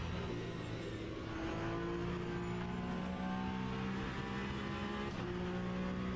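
A hypercar engine drones steadily in the racing game Le Mans Ultimate, a sustained high tone that holds at a constant level with no speech over it.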